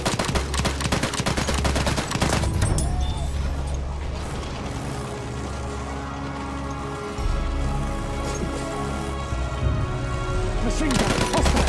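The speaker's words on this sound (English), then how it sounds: "Machine gun," Machine gun fire in the World War I shooter Battlefield 1, loud sustained bursts of rapid automatic shots over a dense battlefield din of explosions and clatter, with fast repeated cracks at both ends.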